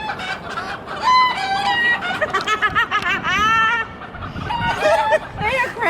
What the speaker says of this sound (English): the chickens are laughing at Jessica.